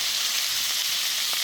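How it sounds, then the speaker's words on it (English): Onions sizzle steadily in bacon grease in a pan with squash just added, a continuous soft hiss of frying held at an even level throughout, with no voices. "You can hear the onions sizzling in the bottom."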